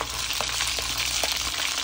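Jamaican dumplings fry in a covered pan, giving a steady, close sizzle that fills the whole stretch, with a few soft pops and bubbles breaking through and no voices.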